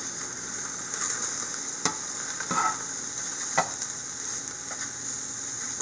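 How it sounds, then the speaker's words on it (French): Poplar mushrooms sizzle steadily in a pan over moderate heat as they release their water, a constant bright frying hiss with occasional soft clicks and stirring knocks, close and with no talking. "les champignons grésillent. Puis il y a de l'eau qui sort."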